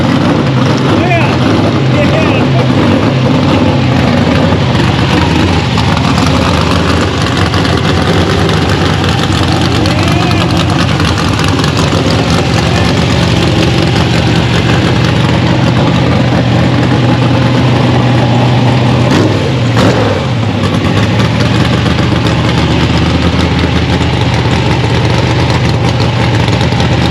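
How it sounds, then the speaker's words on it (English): A loud, rumbling car engine idles continuously at close range at a large car show, with voices talking faintly beneath the steady noise. "his car's way too loud"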